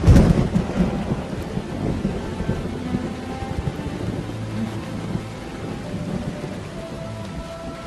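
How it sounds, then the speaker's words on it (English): The season's first rain after eight months of drought falls steadily in the African wild, with a loud thunder rumble at the start and continuous rain hiss beneath. "The first rain for 8 months."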